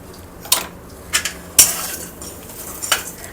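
A lid goes onto a cooking pot of freshly cooked rice with sugar, giving several sharp metallic clinks and clanks spaced over a few seconds against a quiet kitchen background.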